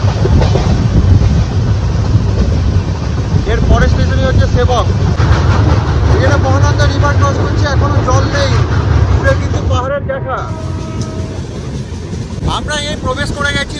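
The Kanchankanya Express runs through Gorumara forest with a loud, steady rumble of wheels and carriage noise. A voice talks over it at length.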